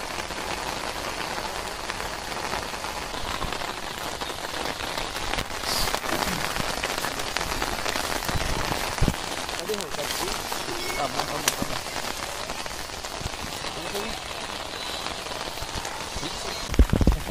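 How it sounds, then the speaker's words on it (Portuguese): Rain falls steadily and loudly on a muddy shoreline during a yellow shrimp fishing trip in Raposa, Maranhão, a dense continuous patter with scattered nearer drops throughout. "começou a chover embaixo"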